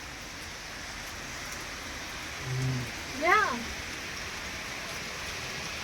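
Steady rain falls in cold mountain weather at Shimla, a continuous wash of drops with a brief voice partway through.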